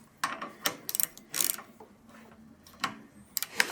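Socket wrench ratcheting on a bolt, a series of quick, close clicking bursts in irregular clusters, fairly quiet, with short pauses between strokes.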